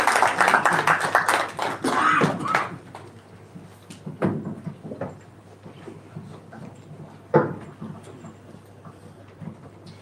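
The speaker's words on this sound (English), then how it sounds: "Please round of applause for his technical session" Audience applause at a Nigerian-American Chamber of Commerce event welcoming a technical session presenter: a burst of clapping that tapers into scattered claps and room noise, with one sharper knock late on.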